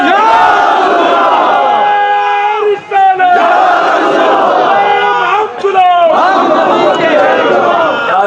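Large religious gathering chants a slogan together in a loud, rhythmic mass call, voices rising in unison with brief pauses between repetitions.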